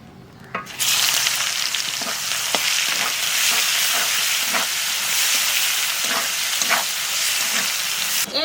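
Onions tipped into hot oil for a stingray fish curry: a sudden entry, then loud, steady frying sizzle with faint crackles running throughout, close up, with no speech.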